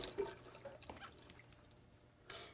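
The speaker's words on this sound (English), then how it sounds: "And wash your apple." Running water from a tap splashes softly as an apple is rinsed in a kitchen, faint dripping and trickling with a slightly louder gush near the end, no voices.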